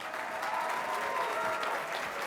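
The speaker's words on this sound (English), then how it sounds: "let's give a big round of applause" An audience at a CES 2012 mobile apps showdown claps, steady, dense applause from a crowd sustained for a couple of seconds without pause.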